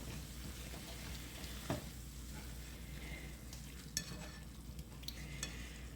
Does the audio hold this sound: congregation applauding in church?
no